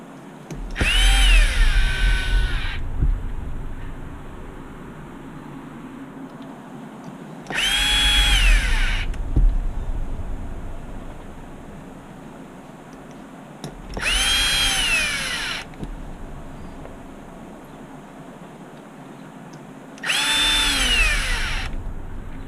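A power drill drives screws into HB Racing D817 V2 RC car parts in four separate whirring bursts of about two seconds each, close and loud, with quiet pauses between them.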